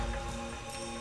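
Shower water spraying in the shooter game TimeSplitters 2, a brief, steady hiss of falling water with a soft patter, continuous and fairly close.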